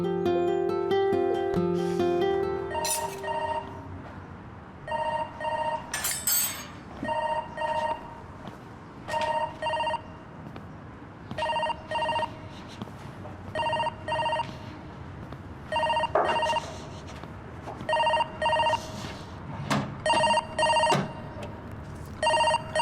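A telephone rings repeatedly in evenly spaced bursts of bright electronic trilling, with some clattering and movement sounds in between and no talking.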